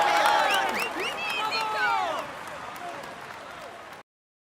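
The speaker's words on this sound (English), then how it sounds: "Come on, let's applaud him once more." A crowd at a Tour de France stage finish in a cycling video game applauds and cheers for the stage winner, a dense wash of clapping and excited voices that fades over about four seconds.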